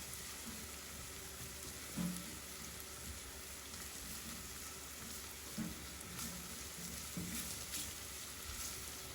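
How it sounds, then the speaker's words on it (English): Soft, steady sizzling of garlic frying gently in oil, with faint occasional clinks and stirring, no voices. "just tiny bubbles, not too hot, just hot enough for the garlic to slowly sizzle"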